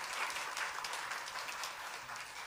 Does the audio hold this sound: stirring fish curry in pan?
no